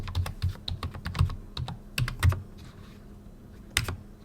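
A password is typed on a computer keyboard: a close series of crisp key clicks in quick irregular bursts, a short pause, then a few final taps, with no voices.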